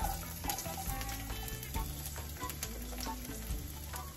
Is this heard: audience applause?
no